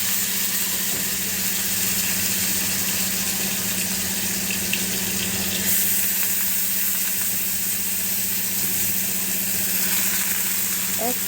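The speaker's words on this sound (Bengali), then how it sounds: "আজকে প্রথমেই যেটা করব সেটা হচ্ছিল থোড় ভাজা" Chopped banana stem frying in a pan as it is stirred, a continuous loud sizzle with occasional stirring scrapes and a low steady background hum.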